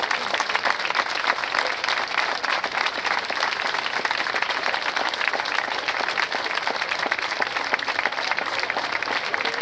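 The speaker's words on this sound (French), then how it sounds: "Je vous demande un tonnerre d'applaudissements pour Gérald Pirot" A crowd at a cavalcade event applauds for Gérald Pirot, with dense, sustained clapping at an even level throughout.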